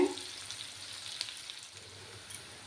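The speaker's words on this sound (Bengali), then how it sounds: "পেঁয়াজগুলোকে একটু লাল লাল করে ভাজতে হবে।" Onions frying in a pan until reddish, giving a soft, even sizzle with faint crackles throughout and no talking.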